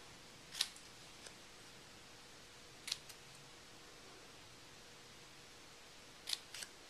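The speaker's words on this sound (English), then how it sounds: "I'm going to just clip this end and create a little ribbon edge" Scissors snip the end of a paper ribbon edge on a handmade card, giving three brief, crisp clips spaced seconds apart, close and quiet in a still room with no talk.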